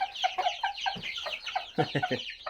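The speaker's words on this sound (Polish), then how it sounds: "Kurczaki rosną" Several chickens clucking close by in quick, overlapping bursts, with busy chattering calls throughout.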